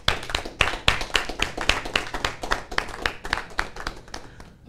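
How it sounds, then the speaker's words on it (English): A small audience at a community talk show claps in a sparse, uneven burst, individual sharp hand claps standing out close by with no voices over them. "I just want us to give a round of applause to Mr. Heritage."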